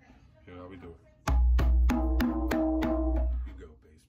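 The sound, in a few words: African hand drum strokes: bass, bass, tone, tone, slap, slap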